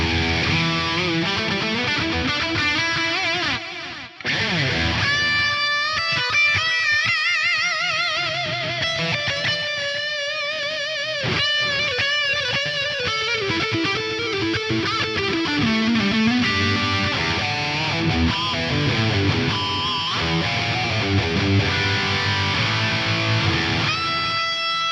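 Electric guitar played continuously through a St. Rock Amperium amp modeler with delay, a sustained, slightly gritty tone with ringing repeats trailing the notes, loud and alone with no talking.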